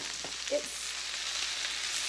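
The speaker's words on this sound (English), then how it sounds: "sizzling, and I'm just going to kind of move it around with the tongs" Washed kale leaves sizzle steadily in a hot pan as tongs move them around, a soft, continuous frying hiss with a brief clink of the tongs early on.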